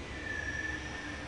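A train in the adventure game The Longest Journey rumbles steadily, with a bright sustained wheel squeal riding over the low rolling noise throughout, no voices.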